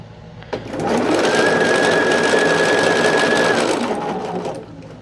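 A sewing machine runs steadily stitching a quilt fabric seam, a loud even mechanical whir that starts after a brief tap, holds for about four seconds and then winds down, with no talking.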